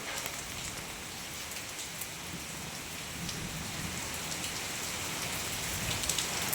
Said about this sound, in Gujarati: વરસાદ પણ ચાલુ થઈ ગયો